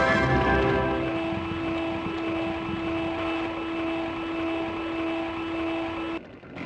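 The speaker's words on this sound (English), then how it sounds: "The reef blower that defines reef blowers." A reef blower in the SpongeBob Revenge of the Flying Dutchman game whirs as a steady, loud, droning hum with a sustained tone, running for several seconds before cutting off abruptly.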